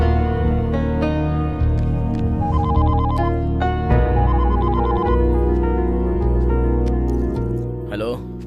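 A phone rings with a repeating electronic ringtone in short melodic bursts, loud and close, over a busy background of voices and music.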